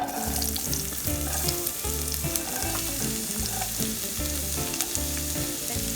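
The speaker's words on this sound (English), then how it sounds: "to the pot, the celery, the onion, the garlic, and I'm going to saute" Celery, onion, carrot and garlic sauté in a pot, producing a loud, dense, continuous sizzle with rhythmic stirring pulses and no voices.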